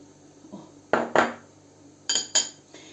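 A utensil clinks and scrapes against a bowl while stirring milk and butter, in a few short bursts, close by, with quiet gaps between the strokes.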